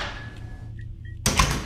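A key turning in a lock and a door opening in the video game Cry of Fear: faint metallic clicks over a low hum, then a sudden loud creak as the door swings open.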